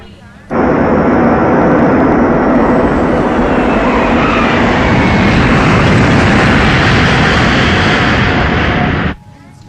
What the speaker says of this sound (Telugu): అందువల్ల మన ఫ్లైట్ ని గోవాలో ఎమర్జెన్సీ ల్యాండింగ్ చేస్తున్నాం.